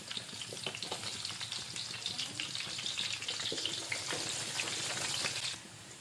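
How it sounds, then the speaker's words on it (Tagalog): Garlic, onion and ginger sizzle in a hot pan for a Filipino taro-leaf laing, a steady crackling fry with scattered stirring scrapes throughout. "pagkatapos kong igisa ang bawang, sibuyas at luya"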